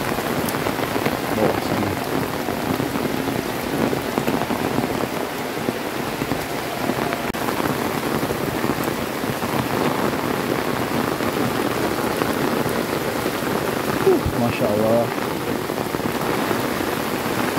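Steady rain falling over a village with rice paddies, a loud, even hiss of drops on surfaces that runs unbroken throughout, with a few brief spoken words in the foreground.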